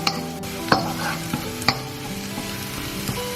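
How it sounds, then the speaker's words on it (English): Garlic frying and being stirred in a pan, with a steady close sizzle broken by a few sharp scraping clicks of the utensil and no voices. "making sure I don't burn this garlic. So just stir that for a few seconds."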